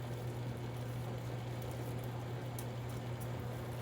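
Steady, dense bubbling of water at a rolling boil as ground beef is broken up in it, continuous and close, over a low electrical hum, with no talking.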